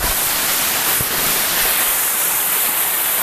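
Grojogan Pangkung Langse waterfall in Bongan village, Tabanan, Bali, a dense, continuous roar of falling water, loud and close, with no voices.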